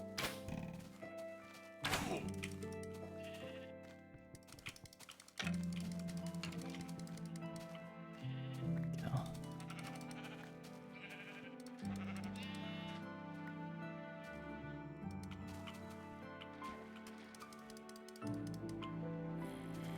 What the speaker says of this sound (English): Let's go grab this sheep over here.